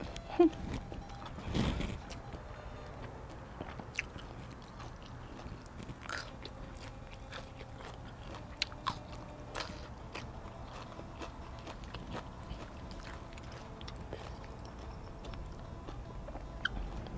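Someone eating breakfast outdoors behind a house, chewing and biting with soft crunches and clicks, close and quiet, with a loud burst near the start and brief voices in the background.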